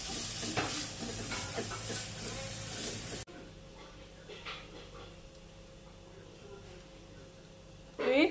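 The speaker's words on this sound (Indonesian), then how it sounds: "Saya tumis ini dulu, minyak sedikit aja karena daging udah banyak minyak juga." Meat stir-fries in a little oil in a pan, with close sizzling and stirring scrapes for the first few seconds, then a quieter stretch of soft frying before a louder burst near the end.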